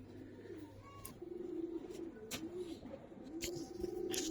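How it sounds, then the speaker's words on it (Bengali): Silver Giribaz pigeons of an old breed coo in soft, repeated rolling phrases close by, with a faint chirp and light background rustle. "হ্যাঁ, এটা কোয়ালিটি ফুলই কবুতর।"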